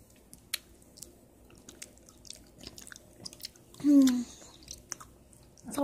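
Crunchy food, with meat mentioned, chewed close to the mic in an ASMR eating session, with scattered soft bites and a louder crunchy burst near the end over a quiet background.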